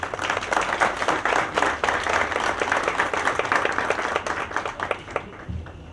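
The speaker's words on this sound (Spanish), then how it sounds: "Aplauso, por favor." Steady applause from the audience at a public transparency and information-access network meeting, a dense, continuous crackle of many hands clapping that fills the room for about five seconds before thinning and fading at the end.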